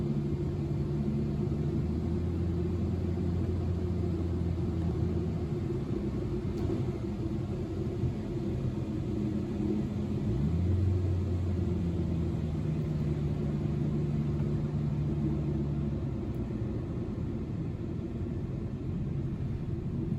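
Car engine droning steadily through laps at TMS, a continuous low rumble with slowly rising and falling pitch, loud and unbroken for the whole stretch with no talking.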